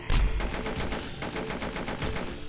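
Rapid rifle fire in the sci-fi video game Vortica, a fast regular burst of sharp shots filling the whole clip, loud and close with a brief pause midway.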